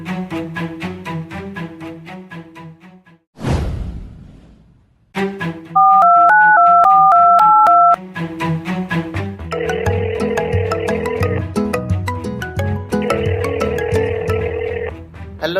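Telephone sounds at night: a steady dial tone, a run of alternating two-pitch beeps like a ring signal, then repeated electronic ringing bursts, all over a soft music bed with a sharp swoosh early on.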